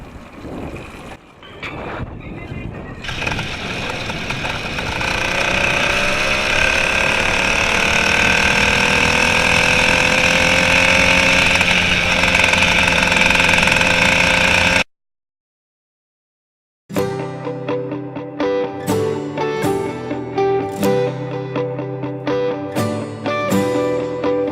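A small gasoline engine fitted to a mountain bike runs with a steady, buzzing drone for several seconds, cuts to silence, then gives way to a different rhythmic, tonal sound.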